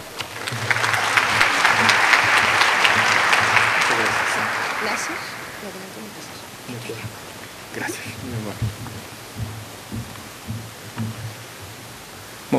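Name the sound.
conference audience applause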